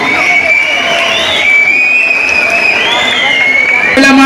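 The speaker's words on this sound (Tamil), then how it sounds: "ஒரு பெரிய உற்சாகமான கரகோஷம் கொடுத்து" An audience at a Tamil debate event in Nangavalli cheers and applauds in a continuous, loud wash of crowd noise, with a raised voice ringing over the top.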